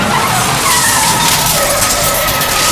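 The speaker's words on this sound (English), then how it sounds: "He crashed it, Pete." A car skids hard through an intersection and crashes during a police chase, with loud, continuous tire screech and roaring noise filling the scene alone.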